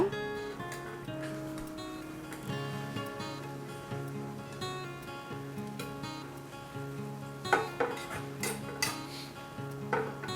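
Sea mola fish being carefully stirred in a pan, with soft, intermittent clinks and scrapes of the utensil against the pan, faint and close, with no talk.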